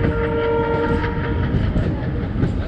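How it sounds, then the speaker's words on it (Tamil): The Thar Express rumbles steadily through the Thar desert, loud and close, with a continuous roar of wheels and carriages and a sustained horn tone running beneath. "நல்லா அப்படியே புழுதி பறக்க பறக்க போகுது இந்த ட்ரெயின்."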